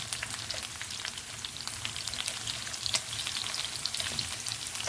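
Onions fry in oil in a pan for savory pulao while being stirred, turning golden brown, giving a dense, steady crackling sizzle that stays loud and even throughout with no voices.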